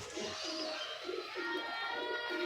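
A female Pendi pigeon coos softly and repeatedly in a steady rhythm, about five or six low throaty coos close by, with no other sound competing.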